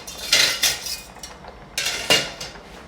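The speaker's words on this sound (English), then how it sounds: "I'm just gonna whisk around the rest of the sauce" A whisk scraping and clinking against a pan while sauce is stirred, two short bursts of metallic rattling separated by a quieter pause.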